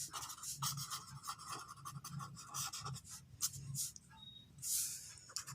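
Pen writing on paper while working a maths exercise: quick scratchy strokes in short bursts, close and faint, with a few pauses between.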